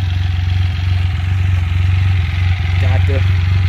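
A Can-Am Spyder F3S Special Edition three-wheeler idles steadily and close by, with a low, even rumble throughout and a brief human voice near the end.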